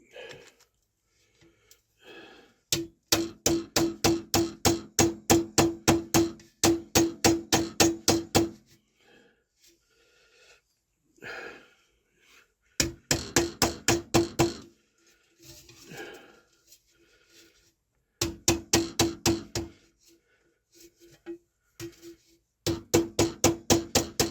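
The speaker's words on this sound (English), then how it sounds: "so I can rubber hammer it" Bursts of rapid, evenly spaced rubber hammer blows on a 1957 Buescher brass instrument ring out in fast rhythmic runs, separated by pauses with soft breathing and handling noise.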